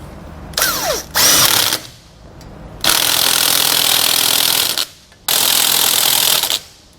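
A power tool tightens brake bracket hardware on a trailer axle during a Kodiak disc brake kit installation, running in loud sustained bursts with short pauses, two brief buzzes first and then two long whirring runs.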